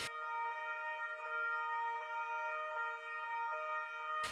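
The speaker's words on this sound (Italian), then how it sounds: "Sirene spiegate come un urlo di dolore a rompere un silenzio irreale." Police sirens sound at a memorial in Trieste for two slain officers, with several sustained, overlapping steady tones holding without a break, fairly distant and alone with no talk.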